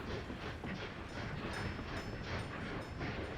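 Steam-era freight train in the Soviet-republic management game, set at a 1900 start, rolling steadily with a continuous rumbling clatter of wagons at moderate loudness, no voices over it.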